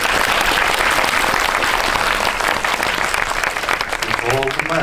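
Dense, steady applause from a large audience at a film talk event for the movie Hunt fills the whole stretch, with a voice faintly emerging near the end.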